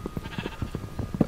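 Sheep bleating inside the Minecraft video game, several short synthetic bleats in an uneven, repeated series, close and fairly loud, with the last call the strongest.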